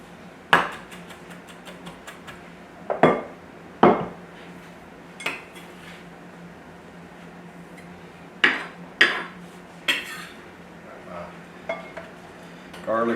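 Fresh herbs, garlic and onion are chopped in a kitchen, heard as a handful of scattered sharp knife knocks on a board with quiet gaps between them, close and fairly loud.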